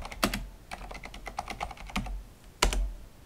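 Keys clatter on a computer keyboard as commands are typed, a quick irregular run of close clicks with a heavier thump near the end, like an Enter press, and no speech.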